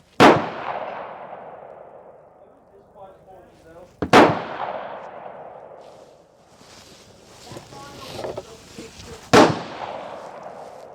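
Three sharp rifle shots from a Tikka T3 CTR fire at an outdoor range, each a loud close crack rolling into a long echoing decay, spaced a few seconds apart with faint talk between them.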